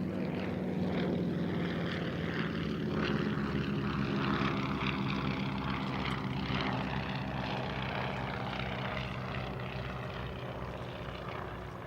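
A Mark 1 Avro Anson propeller aircraft flies past with a steady, loud engine drone and pulsing propeller throb throughout, fading slightly toward the end.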